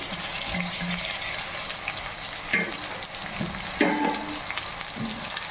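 Tomato pieces fry in a chicken curry with onion, ginger-garlic paste and curry leaves, giving a steady close sizzle with a few stirring scrapes and clinks throughout.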